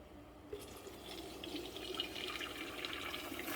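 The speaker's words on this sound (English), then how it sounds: "I'm going to drain it so that I can keep some of the pasta water" Pasta water pours and splashes steadily out of a pot as it is drained into a sink, a continuous close liquid rush with small sloshing bursts.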